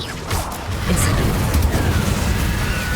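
The Incendio fire spell bursts out in Hogwarts Legacy as a loud, rumbling whoosh with crackling pops layered over other combat sounds.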